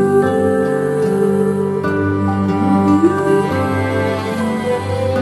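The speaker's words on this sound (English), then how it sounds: "here's the sound of a Spanish guitar." Nylon-string guitar playing sustained, ringing chords with a soft melodic line, close and warm, no voices.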